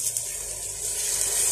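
Water is poured into a tomato masala for mutton curry, a broad steady hiss of liquid splashing into the pan, fairly loud and continuous without speech.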